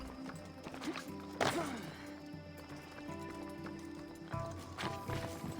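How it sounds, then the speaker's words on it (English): Horse hooves clip-clop in Assassin's Creed Odyssey as a rider passes through a busy in-game street, steady trotting beats mixed with ambient game sounds and a shouting voice. "The man on a horse yelling out of the way."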